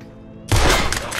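A sudden loud burst of video-game gunfire aimed at chains, a dense cluster of shots that erupts after a quiet lead-in and rings on with a broad crackling tail.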